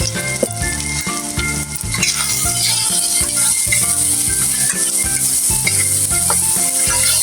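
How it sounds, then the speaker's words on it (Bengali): Masala spices for a chicken curry with tomato and peas sauté loudly in a pan, a dense continuous sizzle broken by rhythmic scraping strokes of a spatula, close and alone without talk. "এই তো মশলাটা কষিয়ে নিলাম"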